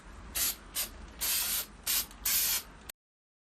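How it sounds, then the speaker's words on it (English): Aerosol spray can spraying black paint onto a plastic laptop screen panel in five short hissing bursts with brief pauses between, close and even, then silence. "Spray the black paint onto the plastic screen evenly."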